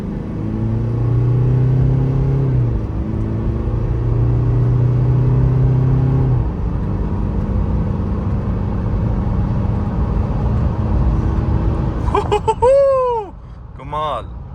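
Toyota Fortuner Sigma 4 with its 2.8 diesel engine, heard from inside as it accelerates hard, a deep loud rumble climbing through gear changes, then a few brief high chirps near the end.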